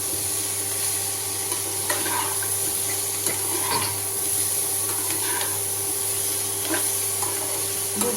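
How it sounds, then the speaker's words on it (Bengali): Boiled chickpeas, vegetables and a slit red chilli stirred together in a pan while cooking soya pulao, a steady close scraping and stirring over a constant background hum, with no talking. "এবার ভালো করে মিক্স করব।"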